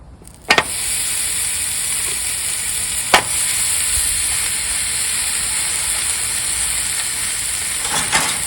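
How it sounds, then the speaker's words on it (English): Hamburger patties and eggs frying on a small griddle give off a steady, loud, bright sizzle, broken by a few sharp clicks and taps of a utensil. "I'm just gonna cook a couple of hamburger patties with a couple of eggs, just right here on this little griddle using this accessory kit."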